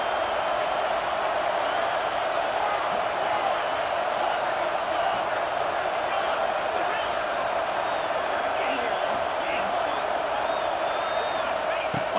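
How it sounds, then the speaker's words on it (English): A stadium crowd in the College Football 26 video game, with LSU playing at Alabama near the goal line, keeps up a constant, loud roar while a commentator talks over it. "this big crowd doing everything possible to inspire this defense down here near the goal line"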